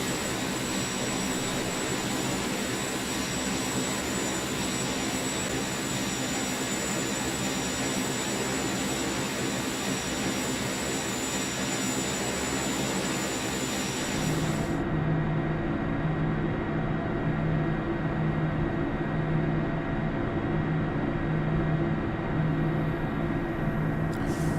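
Cessna Mustang business jet taxiing in the FSX flight simulator, its engines producing a steady, loud whine and roar that holds evenly throughout, with a slight shift in tone partway through.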